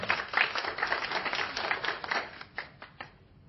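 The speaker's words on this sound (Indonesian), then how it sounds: "Kita beri tepuk tangan kepada Pak Gerson." Scattered applause from a small audience at a debate for Pak Gerson, a thin patter of claps that fades toward the end, with no voices over it.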